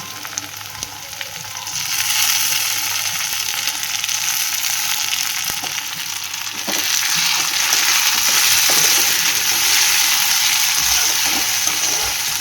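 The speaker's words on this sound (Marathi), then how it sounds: "आता मी यात हळूहळू करून टमाटर सोडणार आहे." Tomato goes into browned onion in a pan for a spicy prawn and potato gravy; a loud, steady sizzle rises and holds, with scattered stirring scrapes and no talking.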